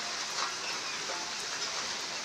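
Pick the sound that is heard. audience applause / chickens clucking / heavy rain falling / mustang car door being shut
heavy rain falling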